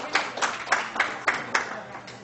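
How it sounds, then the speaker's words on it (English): Conference audience at an astronomy summer meeting claps in a loose, regular rhythm, about eight distinct claps at moderate volume, with background voices murmuring underneath. "Also clap."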